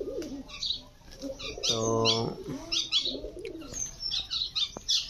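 A flock of around two dozen pet pigeons, some of them young, coo in low rolling calls close by. A burst of wing flapping comes partway through, with light chirps scattered around it. A voice says a single brief word.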